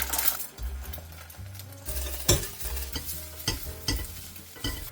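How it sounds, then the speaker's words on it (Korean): Scrambled eggs sizzle in an oiled pan over low heat while a utensil stirs and scrapes, with irregular clinks and scraping bursts over a steady frying hiss. "달궈진 팬에 기름을 두르고 약불로 스크램블을 만들어주세요."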